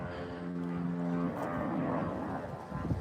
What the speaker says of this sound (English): Some kind of really loud airplane flying over.